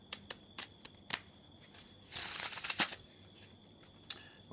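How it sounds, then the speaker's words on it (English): A deck of playing cards is split and riffled with a one-handed shuffle, heard as a few quick soft clicks followed by a brief close riffling burst and a final snap, with no talking. "you have the famous one-hand shuffle. You split a deck and you do this"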